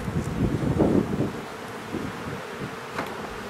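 Honey bees buzz around an opened hive during a spring inspection after light smoking, a steady low hum close by with some microphone wind rumble and rustling.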